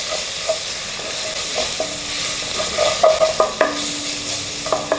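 Crushed ginger, garlic and green chili sautéing in a pan for a Malabar chicken biriyani, a steady close sizzle broken by repeated scraping stirs and clinks of the spatula, with no voices.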